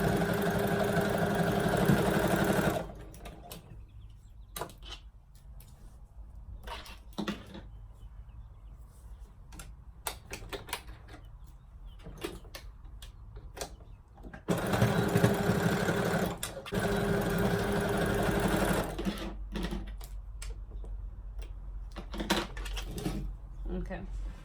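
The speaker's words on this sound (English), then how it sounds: "Sewing the pockets on." A sewing machine stitches pockets onto sweatpants, running in loud steady bursts at the start and middle, with quieter handling clatter and speech in between.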